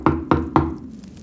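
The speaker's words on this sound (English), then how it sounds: "Then a knock on the door." Three firm knocks on a door in quick, even succession, close and distinct, followed by a quiet room.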